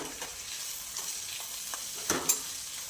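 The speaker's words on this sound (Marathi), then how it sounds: "याच्यामध्ये आपण टोमॅटो घालून घेणार आहोत आता टोमॅटो पण आपल्याला छान परतून घ्यायचं आहे" Onion and tomato fry in a pan while being stirred, a steady soft sizzle with occasional scraping clinks of the spoon, close and quiet with no talking.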